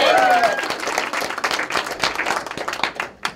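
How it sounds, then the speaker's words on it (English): Audience applause for Joy Grutz, owner of Joy of Photography, at a ribbon cutting: dense, close clapping from a crowd that rolls on steadily and thins out toward the end. "Applause for Joy."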